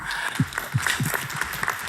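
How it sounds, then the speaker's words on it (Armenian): A studio audience claps at a televised music show for soundtracks, a brief burst of dense applause with sharp hand-claps standing out over steady crowd noise. "կուզեմ նորից ծափարենք Հայկոին"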